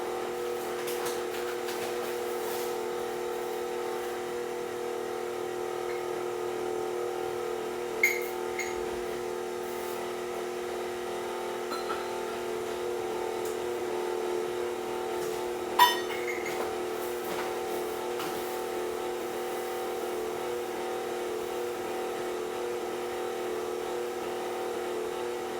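A stand mixer stirs devil's food cake batter in a steady, even whir, with sugar added while it runs and two faint clinks along the way.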